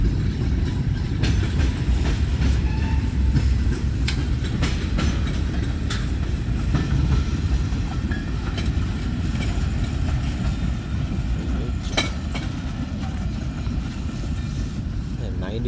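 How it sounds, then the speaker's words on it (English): Union Pacific SD40N and SD40-2 diesel locomotives hauling a 90-car freight train, a steady loud rumble with rhythmic wheel clatter and occasional clanks, continuous throughout with faint voices. "And 90 cars this train has."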